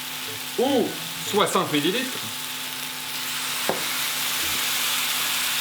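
Tofu sautéing in a pan with peanut sauce and soy sauce, a steady soft sizzle running throughout, with a few brief spoken words near the start and a single faint clink midway.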